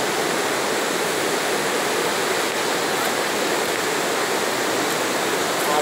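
Strong floodwater in Sobral, Ceará, roars under the Otton de Alencar bridge and over a dam wall, a dense, steady, loud rush of water with no pauses.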